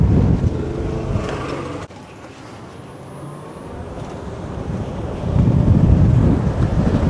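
Loud gusting wind roars against the microphone on an outdoor multimodal cart path, easing briefly in the middle before buffeting hard again.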